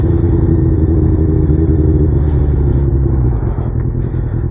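A sportbike threads through heavy traffic, its engine a loud, close, continuous rumble with some clatter and surrounding car noise, easing slightly near the end.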